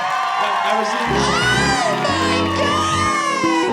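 A crowd cheers, whoops and yells loudly and continuously, close and dense, with excited shouting voices overlapping throughout.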